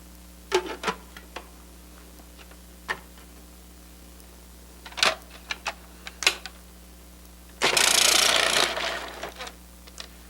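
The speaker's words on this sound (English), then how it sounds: "Prepare and shred the yellow squash in the same way." A Cuisinart DLC 7 or 8 series food processor shredding yellow squash, heard as several sharp knocks and clatters of squash pieces being loaded, then a short loud whirring buzz as the shredding disc runs.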